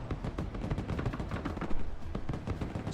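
Metis anti-tank missile and grenade launcher fire in the war game Broken Arrow, a continuous rumbling mix of distant bursts and booms, rather faint and layered without clear separate shots.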